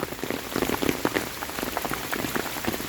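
Hard rain pattering densely on surfaces outdoors near high water, a steady close spatter of drops with no talking.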